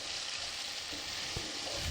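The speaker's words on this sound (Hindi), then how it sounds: "अब इसे अच्छी तरह हमने भून लेना। 5 मिनट हमने इसे भून लेना।" Chicken keema sizzles on high heat in a pan, a steady close hiss of frying with a soft stirring bump near the end.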